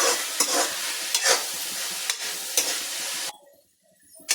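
Onions and curry leaves frying in a pan for Kerala-style beef fry sizzle loudly as a spatula stirs them in several scraping bursts, then the sound drops away near the end before one last stir.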